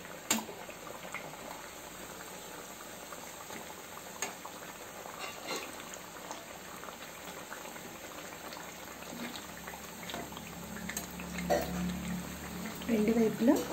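Bottle gourd vadas frying in hot oil, a steady soft sizzle and bubbling throughout, with occasional faint clinks and a slight swell near the end.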